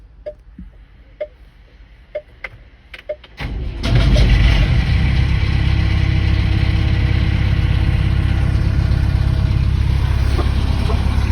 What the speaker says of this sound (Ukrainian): Зараз ще запущу його, покажу як він працює.